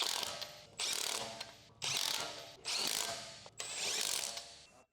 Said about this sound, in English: Use a large 17mm deep socket with a large electric impact wrench to tighten the rear wheel lug bolts.